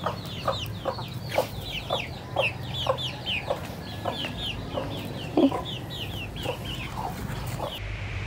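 Chickens clucking in a flock just after feeding, many short overlapping clucks and chirps in a steady stream, close and moderately loud.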